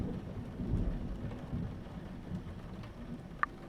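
Thunderstorm with steady rain in a mystery video game, a low rumble of thunder rolling under the rain's hiss, with one sharp crack near the end.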